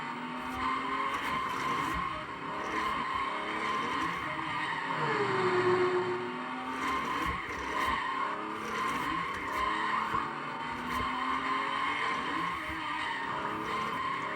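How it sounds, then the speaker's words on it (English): Ferrari 250 GTO in the arcade racing game Great 1000 Mile Rally, its engine droning steadily with screeching tire skids and a rising whine midway, loud and continuous throughout. "Ferrari 250 GTO, and you'll hear the difference in the engine sound and performance compared to the Mercedes."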